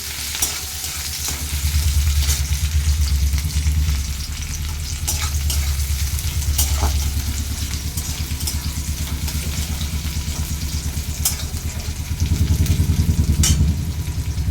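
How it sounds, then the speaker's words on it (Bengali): A whole onion fries in hot oil in a pan, a steady loud sizzle and bubbling that runs throughout with a few clatters of stirring, no voices. "এবার আমি একটা গোটা পেঁয়াজ এর মধ্যে দিয়ে দিচ্ছি"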